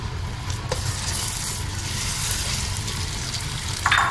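Mashed potatoes sizzle and fry in a pan as they are stirred, a continuous close crackling hiss with a low rumble beneath, a brief scrape near the end, no one speaking.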